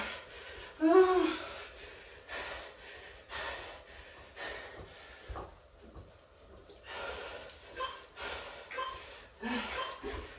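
Heavy, laboured breathing during a hard stationary bike workout, repeated gasps and wheezy exhales close to the mic, with the bike itself nearly silent.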